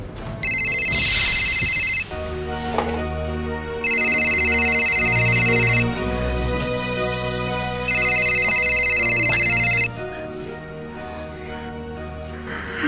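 A telephone rings in three electronic bursts with pauses between them, set against tense drama background music in a crime drama scene.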